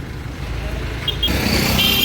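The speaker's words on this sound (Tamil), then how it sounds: "வண்டி கிளம்புது பாருங்கள்" A vehicle pulls away at a sales lot in Tiruchendur, a low engine rumble that grows slightly louder as it moves off, with a brief high-pitched beep and faint voices nearby.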